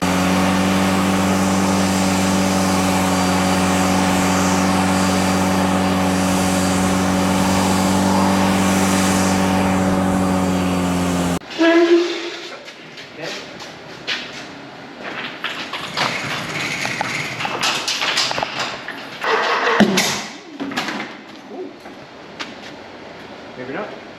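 A 2180cc air-cooled VW Beetle engine runs with a steady, loud idle and a dense low hum, then cuts to rougher, uneven revving with sharp bursts as the engine picks up and settles.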